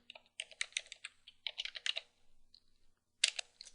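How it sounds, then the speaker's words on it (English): A command typed on a computer keyboard: quick bursts of crisp, close key clicks separated by short pauses, ending with a final flurry of keystrokes in an otherwise quiet room. "So let's type in sudo space, type that correctly"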